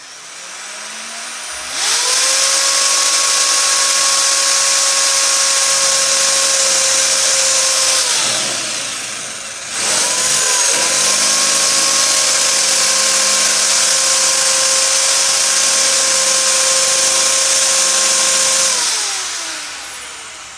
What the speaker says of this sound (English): Okay, here I go. I'm drilling a hole.